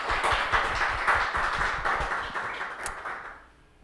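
A church congregation claps together in applause for a group of young women who led worship songs, a dense, steady patter of many hands that carries on for several seconds before tapering off.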